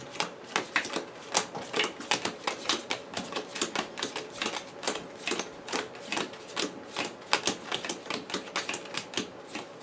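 A deck of cards for the Marvel Champions card game being shuffled, giving a steady run of crisp, rapid clicks and snaps that continues for about ten seconds, close and alone.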